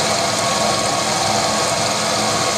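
A milling machine driven by a variable-speed inverter hums and grinds steadily at close range while cutting metal, a dense continuous cutting noise with no pauses.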